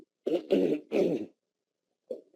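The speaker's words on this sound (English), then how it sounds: "I apologize for the coughing." Three quick, close coughs in a row, then a softer one after a short pause, with no talking around them.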